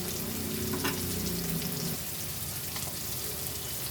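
Tomatoes hit hot oil with ginger-garlic paste and sizzle loudly and steadily, and a stirred rustle fades after the first couple of seconds. No voices are heard.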